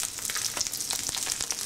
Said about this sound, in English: we're only trying to brown the sausages, not cook them through